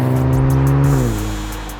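Exhaust note of a 2024 Nissan Z NISMO with automatic transmission and sport grade muffler, loud and close with a steady tone that sweeps upward as the engine pulls, then eases into a fading lower drone.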